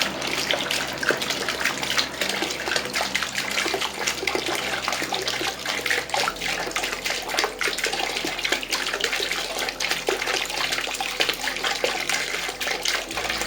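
A small water fountain bought from Meesho runs with a steady splashing gush of falling water over a low constant hum, close and uninterrupted.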